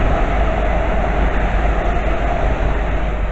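A pair of Class 350 electric trains rush past close by at Cheddington Station with a loud, steady roar and a faint rhythmic rail clatter, and no voices.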